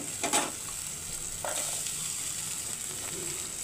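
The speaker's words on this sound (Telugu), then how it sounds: "మెంతికూర వేగింది, ఇప్పుడు ఉల్లిపాయలు వేసుకుందాము." Onions and fenugreek leaves fry in hot oil for an egg curry, a steady close sizzle with a few brief stirring scrapes and clatters near the start and middle.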